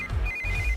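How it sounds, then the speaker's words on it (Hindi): A phone ringtone trills briefly in a steady high electronic tone over low background rumble. "इस वक्त दीदी का फोन।"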